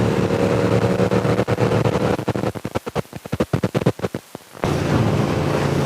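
A KTM Super Duke 1290 motorcycle roars hard through a corner over steady wind rush, breaking into a fast series of sharp pops and bursts, like gear changes or throttle blips, before the loud steady drive returns.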